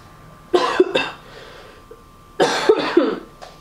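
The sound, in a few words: cough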